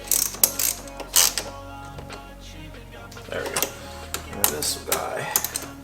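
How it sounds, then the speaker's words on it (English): A hand ratchet with a 10 mm socket snugs bolts on a BMW 335i N55 charge pipe install, giving short bursts of quick, crisp clicking separated by pauses, with some faint handling noise. "all I gotta do is tighten these two up with a 10 mil"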